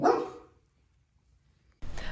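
A dog at a crowded animal shelter barks once loudly and close, the bark trailing off into quiet before another round of barking starts near the end.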